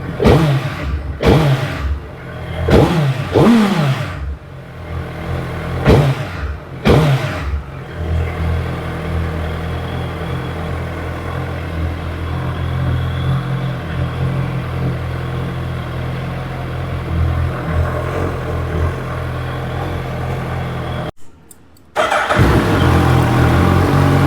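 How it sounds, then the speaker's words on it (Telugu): A Suzuki Hayabusa superbike engine, warmed up after sitting unused for 30 days, gives several sharp, loud revving bursts close by, then settles into a steady rumbling idle that briefly cuts out near the end. "సో ఇంజిన్ అయితే వామప్ అయింది కొంచెం. సో మనం అయితే కొంచెం రైస్ ఇద్దాం."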